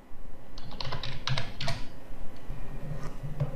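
Rapid keystrokes on a computer keyboard clatter in quick, uneven bursts for the first couple of seconds, then fade to a few scattered taps, close and clear with no talk.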